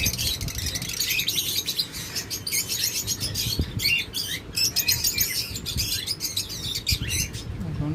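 Lovebirds, cockatiels and other cage birds chirp and tweet busily, with dense overlapping high calls from many birds nearby and a low background murmur.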